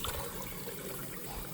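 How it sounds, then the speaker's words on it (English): Water running and rinsing around inside a cooking pot, a steady continuous trickling wash with no voices. "Always just rinse out the pot a little to help with cleaning,"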